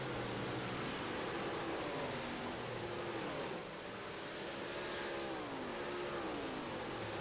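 Dirt 358 modified race cars in an iRacing league race, engines droning steadily with rising and falling revs as several cars run together on the track, continuous and fairly loud with no talk.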